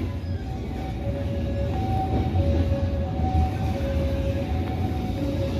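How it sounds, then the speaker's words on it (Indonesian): A passenger train on the Cibatu to Bandung line rolls through a curve, a continuous low rumble of wheels and carriage with a thin, sustained wheel squeal riding on top, heard from on board. "Oke, kereta masih berbelok."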